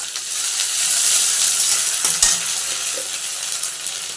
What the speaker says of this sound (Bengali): ধনে জিরে গুঁড়ো আমরা একটু কষিয়ে নিয়েছি